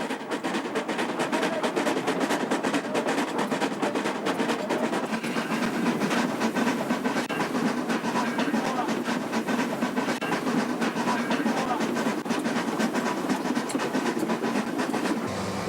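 A small shunting locomotive works hard up a mainline grade on a railway in Eritrea, giving a continuous loud rumbling, hissing chug with a steady rhythmic beat and no voices.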